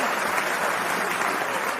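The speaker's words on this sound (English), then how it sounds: "Hand clap." A dense burst of hand-clap applause from a crowd, loud and even throughout its two seconds, used as a sound effect on a podcast.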